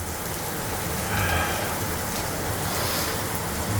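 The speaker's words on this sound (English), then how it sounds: "Oh, another downpour." Heavy rain pouring down on a farm in the Missouri Ozarks, a dense, steady broadband hiss of a torrential downpour with a constant roar and no speech.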